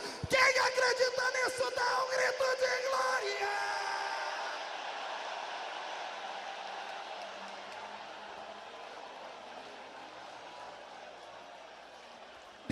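Church congregation answering a preacher with a loud burst of shouting and yelling, which fades into a long roaring crowd noise that gradually dies down.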